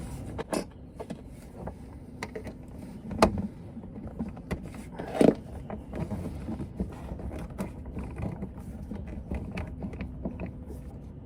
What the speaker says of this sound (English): now I will try to pull this valve out, see if it's any easier without the two hoses attached